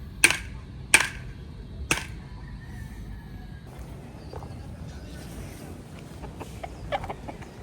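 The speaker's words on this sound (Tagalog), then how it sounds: "Oh, Joy, kinakaykay naman ng manok." A chicken scratches at the soil of a freshly planted garden bed, making three sharp, separate scratching bursts followed by faint rustling and soft clucks nearby.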